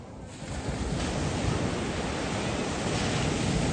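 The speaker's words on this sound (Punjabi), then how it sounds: "ਸੁਣਾ ਸਮੁੰਦਰ ਦਾ ਪਾਣੀ ਵੱਜਦਾ" Sea waves at a Goa beach: a loud, steady, broad roar of surf washing in continuously, with some wind buffeting the microphone.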